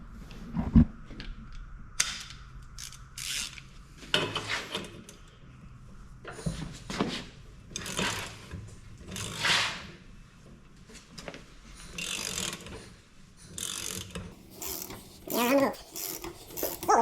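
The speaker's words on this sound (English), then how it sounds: "Slowly, but surely, this flywheel is going to come off." A puller is worked slowly to draw the flywheel off a 1945 John Deere B tractor, giving intermittent ratcheting clicks and metallic clunks in short bursts, close and fairly quiet.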